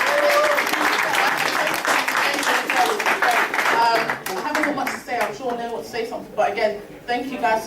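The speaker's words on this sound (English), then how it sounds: "Round of applause for Benny and Shadrach" A networking event audience breaks into steady applause with many hands clapping together, and the clapping thins out toward the end as voices come through.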